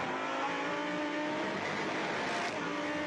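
A Lamborghini Super Trofeo race car at Misano accelerates hard out of a corner, engine note climbing steadily through the gears in one continuous loud roar with no talk over it.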